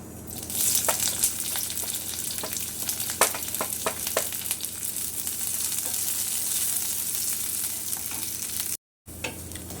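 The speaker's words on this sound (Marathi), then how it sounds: "तेल तापलेलं आहे त्याच्यामध्ये कांदा भाजून घ्यायचा आहे" Onion frying in hot oil in a kadhai while preparing a drumstick curry, giving a loud, steady sizzle with scattered crackles and pops close by. The sound cuts out briefly near the end.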